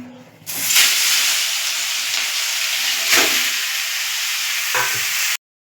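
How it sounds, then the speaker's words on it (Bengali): Chicken mince for cutlets drops into hot oil with a sudden loud burst of sizzling, then fries in a dense, steady hiss with a couple of brief surges as it is moved around the pan. "তেল গরম হয়ে গেছে, এদিকে আমি এই কিমাগুলো একটু তেলে ভেজে নেব।"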